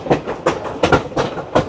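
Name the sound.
train clattering on the tracks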